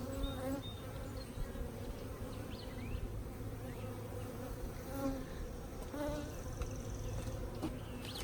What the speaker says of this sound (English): Lots of wonderful bees.